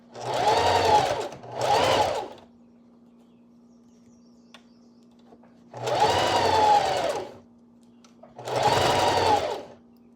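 A sewing machine stitches a dress in four short, close bursts of rapid mechanical whirring, separated by quiet pauses filled with a steady low hum.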